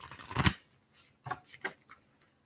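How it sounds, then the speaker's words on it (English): Tarot cards are shuffled during a live reading, giving a few short, soft papery riffles and slaps separated by brief pauses, close and quiet. "one more shuffle"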